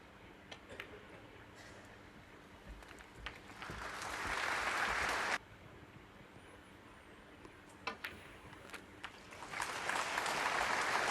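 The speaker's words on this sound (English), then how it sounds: "warm applause from the crowd" A snooker crowd at a title match applauds warmly. The clapping is soft and diffuse, swells in two bursts, and stays fairly faint and distant, with a few isolated claps between the bursts.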